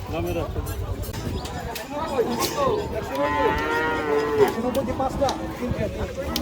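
Cattle mooing at Hozrotpur cattle market during the Qurbani 2024 trade, repeated drawn-out moos near and far among a busy crowd, with people talking throughout.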